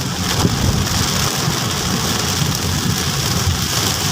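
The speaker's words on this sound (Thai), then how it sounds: "ฝนก็ตกแรงมากนะครับ" Heavy rain pours down steadily and loudly on a street in Din Daeng, Bangkok, a dense constant hiss of drops drumming on surfaces with a low rumble beneath.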